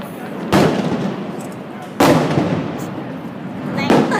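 Fireworks burst at Niagara Falls, Ontario, Canada, three loud sharp explosions spaced a second or two apart, each followed by a crackling, rumbling decay in the open air.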